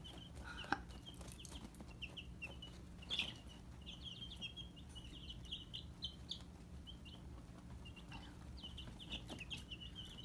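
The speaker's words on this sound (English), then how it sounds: "all day and watch these little birds argue and fight and wrestle" Baby chickens squabbling and scuffling in a brooder, bursts of high peeping and chirps scattered over a steady low hum, with a few sharp bumps and flurries of cheeps close by.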